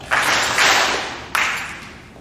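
A school middle school awards assembly audience gives two quick bursts of group claps for a seventh-grade award recipient, the second clap sharper, each decaying in a reverberant room.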